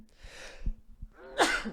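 A single sharp sneeze bursts out near the end, following quiet murmuring and soft knocks in a room where people are chatting on a sports business podcast.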